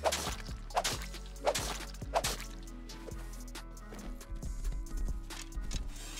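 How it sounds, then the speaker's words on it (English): A horse gallops in the survival video game Rust, its hooves landing in a quick, uneven rhythm of sharp, fairly close thuds over a quiet ambient background. "This horse feels so OP when the wipe just started"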